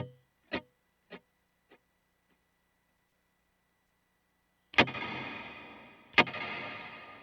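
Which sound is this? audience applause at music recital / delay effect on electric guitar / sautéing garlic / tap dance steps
delay effect on electric guitar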